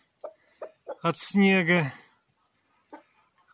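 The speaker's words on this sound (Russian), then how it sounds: "Курочки стали выходить, вот, шевыряться, что-то ищут там." Pushkin hens scratching at open ground outdoors in spring cluck in short bursts, then one lets out a longer drawn-out squawk, with a few more soft clucks trailing after; a voice speaks briefly.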